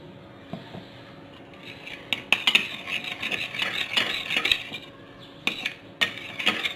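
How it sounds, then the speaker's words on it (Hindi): A spoon stirs and mixes a homemade skin whitening paste in a bowl, with close, irregular scraping and light clinking that grows busier midway. No one speaks. "इनको अच्छे से हमें मिक्स कर लेना है।"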